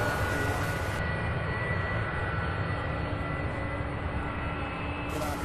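A Boeing 767 jet at Louisville International Airport gives a steady, broadband engine rumble that holds evenly throughout, moderately distant, with no talk over it.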